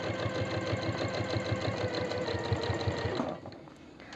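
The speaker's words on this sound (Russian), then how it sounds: "сначала даю строчку по краю, чтобы закрепить" A sewing machine stitching the edge of men's jeans runs with a steady, rapid mechanical chatter, loud and close, then stops abruptly near the end, leaving quiet room tone.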